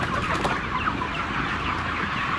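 Many chickens clucking in a poultry house in Taiwan, a dense continuous chatter of overlapping clucks at moderate level, with no talking.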